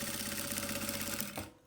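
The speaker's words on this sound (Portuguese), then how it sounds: "eu vou costurar só a nécessaire, só a parte estruturada" A sewing machine stitches a structured toiletry bag, a steady fast mechanical whirr with rapid needle clatter, close and continuous before stopping abruptly.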